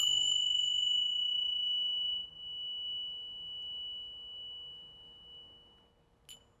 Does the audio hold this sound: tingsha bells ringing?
yes